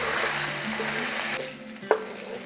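Rice sautéed with a yogurt mixture, chili powder and turmeric sizzles steadily in a pan, with soft stirring scrapes and one sharp clink near the end.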